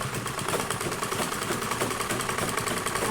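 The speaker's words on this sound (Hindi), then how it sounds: "इसे इस तरह से इस पर चला दूंगी मशीन" An electric sewing machine stitching a bra cut blouse gives a steady, fast mechanical whir with an even rapid pulse, moderately quiet and unbroken throughout.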